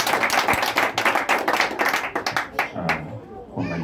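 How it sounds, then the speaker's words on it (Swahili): A church congregation claps together for Jesus at a ministry dedication, a dense run of fast, loud claps close by that thins into scattered claps, with voices mixed in. "Tumpigie Yesu makofi mazuri."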